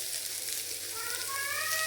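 Soya chunks fry in a pan with a quiet, steady sizzling hiss, and a faint whistling tone rises near the end.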